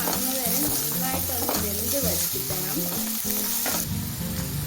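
Ingredients for an egg thoran are sautéed in a pan: a loud, continuous sizzle with stirring scrapes runs throughout, and a tonal, melodic layer sounds over it.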